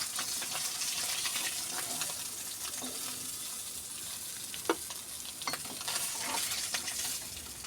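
Tilapia fish pieces fry in oil, a faint steady sizzle with occasional clinks and scrapes of a spatula, and no voices.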